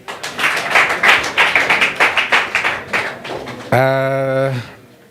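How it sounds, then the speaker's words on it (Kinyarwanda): At a Miss Mulenge East Africa pageant in Nairobi, the audience claps in a quick, rhythmic run of close, steady strikes for nearly four seconds, then a voice briefly calls out and the sound fades. "Bakumpera amashyi."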